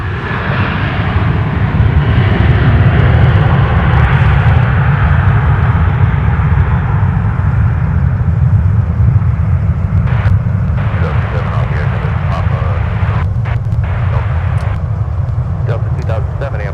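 A Boeing 737-900 airliner taxis at MSP airport in winter, its engines a loud, steady roar close by throughout, with a few faint clicks and knocks near the end.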